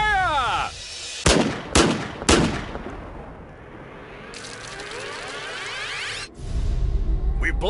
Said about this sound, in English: If this badass bazooka can't blow up the old beater, then Hollywood's got some splaining to do.